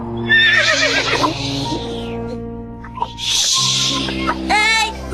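Horse neighing and whinnying in an animated children's story, with a loud drawn-out neigh at the start, a snort-like burst midway and another whinny near the end, layered over background music.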